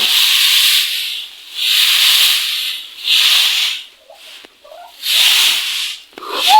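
Repeated bursts of dry, scratchy rustling come in rough waves as hands push through loose hay, with brief quieter gaps between.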